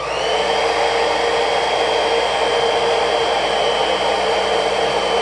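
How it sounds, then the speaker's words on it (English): A hair dryer running steadily at close range, a constant loud whirring hum with a high whine, no voices. "To simply test it, turn on your hairdryer."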